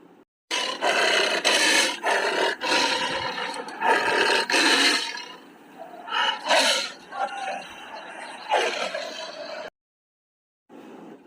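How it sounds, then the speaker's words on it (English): A tiger roars repeatedly in long, loud, raspy bursts that fade toward the end, clear and close with no other sounds. "Tiger."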